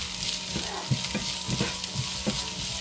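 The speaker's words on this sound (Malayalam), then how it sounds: "ഇനി ഇതൊന്ന് നന്നായിട്ട് വഴറ്റിയെടുക്കണം." Chopped shallots and half an onion sauté in hot oil in a pan for a Kerala dry fish curry with grated coconut, a steady close sizzle with soft stirring scrapes recurring about every half second.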